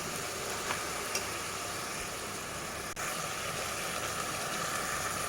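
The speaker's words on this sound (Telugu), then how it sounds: "ఒక 2 మినిట్స్ మనం టమాటాను మగ్గిస్తాము." Tomatoes sizzling in a pan while cooking down for mutton kheema, a soft, steady frying hiss that stays even throughout with no talking.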